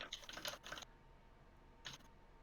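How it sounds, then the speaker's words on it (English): Typing on a computer keyboard: a quick burst of clicking keystrokes, then a pause and a few more taps, quiet and close against a faint background. "That's my typing."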